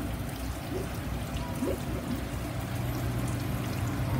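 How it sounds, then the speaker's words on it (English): Water running through hydroponic grow towers, a continuous soft trickling and splashing flow, fairly quiet and steady throughout. "I have my first four towers installed and the water is running through them"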